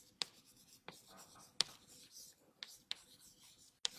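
Chalk or marker strokes on a board during a real analysis lecture, a handful of sharp taps and short scrapes spaced irregularly over quiet room tone, with faint whispery background.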